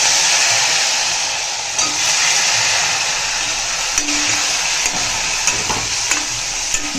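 Garlic and eggplant sautéing in a hot pan give a steady, loud, close sizzle, with occasional light taps from stirring throughout.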